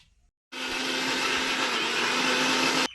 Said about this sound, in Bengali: আমাদের মিক্সিতে আমের পাল্পটা পেস্ট করে নিয়ে চলে এসেছি